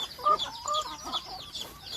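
Chickens at a rural school farm flock of layers, native birds and mixed breeds, clucking in short repeated bursts at moderate distance, several birds overlapping with no talk.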